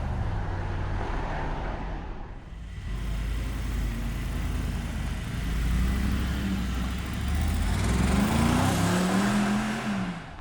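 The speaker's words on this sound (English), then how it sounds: "off we go in the brand new G63 Performance" A 2025 Mercedes G63 Performance V8 SUV idles, then revs and pulls away, the rumble rising in pitch as it accelerates. No one speaks.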